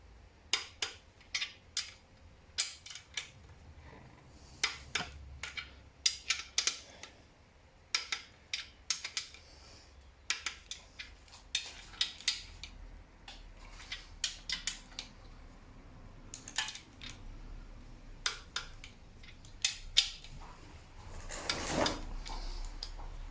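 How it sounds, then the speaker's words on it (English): A torque wrench tightens the bottom end bolts of a Ford Essex engine, giving a long series of sharp, close ratcheting clicks in bursts, separated by short pauses over quiet room noise. "Okay, so that's them all torqued up."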